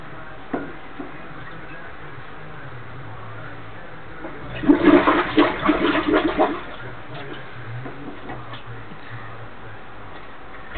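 Water bubbling and gurgling in a blocked toilet during plumbing unblocking, a faint tick near the start, then a loud burst of rushing, gurgling water midway that tapers off into quieter trickling.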